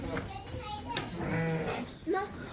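Sheep and lambs in a shed call out in several short, close bleats over steady background murmur and voices, one clear rising bleat near the end.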